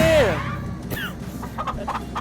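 Chickens in a coop in Farming Simulator 22, including a small bantam, give a clucking call and a few brief squawks, with faint background noise.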